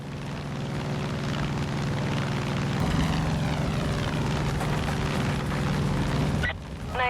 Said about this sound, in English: helicopter in the air identifying resistance strongholds.